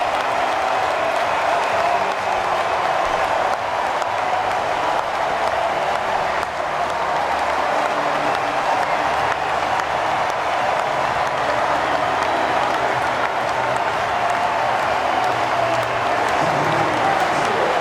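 A stadium crowd applauds at the end of an A-League football match between Wellington Phoenix and Newcastle Jets after extra time. The clapping forms a dense, continuous roar that holds steady throughout, and no voices stand out above it.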